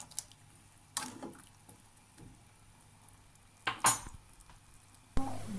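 Squid boiling in a pot as a utensil stirs it: sparse scraping and clattering bursts, the loudest near the middle and end, over a quiet bubbling background, close by and with no voices.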